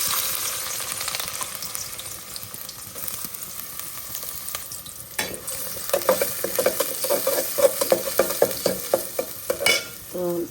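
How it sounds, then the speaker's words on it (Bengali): Chopped onion hits hot oil in a pan on a stove over raised heat and sizzles loudly and steadily, with a spatula scraping and stirring in rhythmic strokes through the second half. "অলরেডি তেলটা দিয়ে দিয়েছি, চুলার আঁচটা একটু বাড়াই দিই, আর দিয়ে দিব এখান থেকে পেঁয়াজ কুচি"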